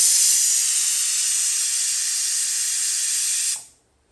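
A pressure cooker on the stove vents steam while chicken cooks, a loud, bright continuous hiss that holds steady for several seconds and then cuts off abruptly into silence.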